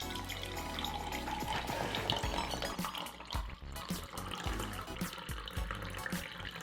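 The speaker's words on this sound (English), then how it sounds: "Now let's pour in some milk tea." Milk tea poured into a cup holding fruit boba, a steady continuous liquid pour and splash heard up close over busy background sound throughout.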